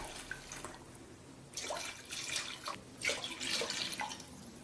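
Thin coconut milk is poured into a cooking pot for rice, giving quiet, intermittent liquid splashing and trickling in a few uneven bursts, with no talk.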